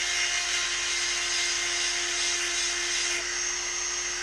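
A powered sharpener grinding chainsaw teeth at low speed in a wood yard, throwing sparks, gives a loud, continuous high-pitched grinding whine with steady intensity throughout and no talking.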